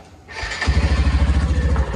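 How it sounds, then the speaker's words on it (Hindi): A motorbike kicks into life after a short mechanical whir, then settles into a loud, steady, pulsing idle close by. "कर दी भाई बाइक भी स्टार्ट"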